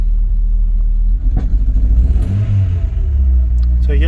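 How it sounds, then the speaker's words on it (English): A Rover 820 car engine revs up from a steady low idle, rising and falling in loudness over several seconds before settling back into a deep, close rumble. "Look at that. That's revving okay."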